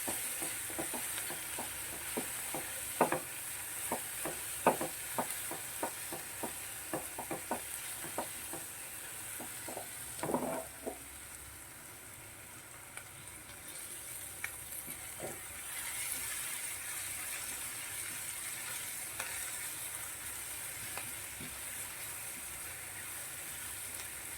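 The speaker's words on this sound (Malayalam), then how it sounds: "സവാള ഗോൾഡൻ ബ്രൗൺ ആകുന്നിടം വരെ വഴറ്റുക" Onions are stirred and sautéed in a pan until golden brown, giving a soft steady sizzle with a quick run of light scraping taps early on that thins out later. The sound is faint and close, with no talking.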